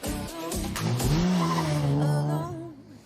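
A four-wheel-drive rally car at the historic Tour de Corse passes fast with engine roar and squealing, skidding tyres, building to a loud sweep before fading away, with no talk.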